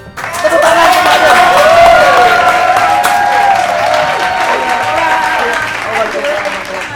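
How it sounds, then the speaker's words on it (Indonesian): A studio audience at an Indonesian talk show breaks into sustained applause, with a dense wash of clapping over bright tones that sound like music playing along. "Tepuk tangan Mbak Adel."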